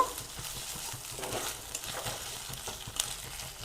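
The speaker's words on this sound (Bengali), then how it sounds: "আদা রসুন বাটাটা দিয়ে আরও একটু ভেজে নেব" Sliced onion with ginger garlic paste fries in a pan with a soft, crackling sizzle, broken by light scraping stirs and small pops at a moderate, close level with no talking.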